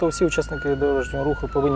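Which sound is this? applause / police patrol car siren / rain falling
police patrol car siren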